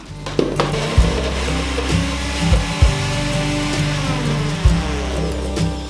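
A blender whirs steadily while blending basil pesto ingredients with grated cheese, a constant loud motor drone with a few thumps and bumps as the blade catches, no talking.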